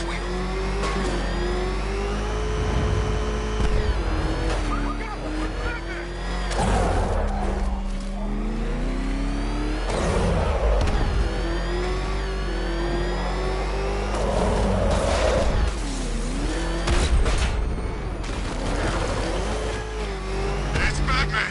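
The Batmobile tank from the Batman Arkham Knight video game driving, its engine revving and whining up and down continuously over a rough rumble, with voices speaking over it.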